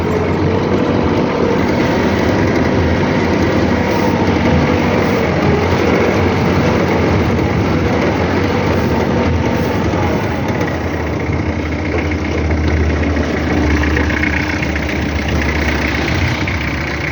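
A Kubota GT3 tractor engine runs with no throttle applied, a steady, even, loud mechanical rumble close by that holds unchanged for the full stretch without talking.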